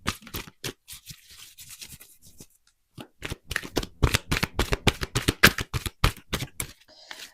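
Oracle cards are shuffled close up, first in soft scattered riffles and then in a fast, crisp run of rapid snapping flicks that ends abruptly.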